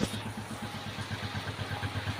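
A scrambler motorcycle idles steadily after a one-click start, its engine giving an even, close low putter with light mechanical clatter throughout.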